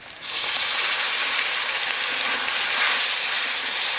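Crushed tomatoes hit hot oil with ginger-garlic paste in a pan for egg curry, setting off a loud, steady, close sizzle and hiss that holds without a break.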